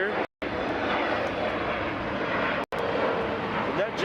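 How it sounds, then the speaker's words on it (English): A Bombardier Challenger 650 business jet at LAX produces a steady, loud jet engine roar that fills the whole stretch, with two brief dropouts in the sound. "That jet's Bombardier Challenger 650."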